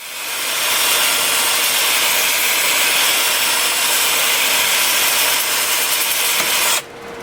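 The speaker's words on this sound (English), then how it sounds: "I'm sanding forward at 300 RPM. I'm starting at 120 grit and working up through 400." Sanding an acacia live edge bowl on a wood lathe spinning at 300 RPM with 120 grit paper, a steady loud abrasive hiss that runs without a break, then drops sharply at the end.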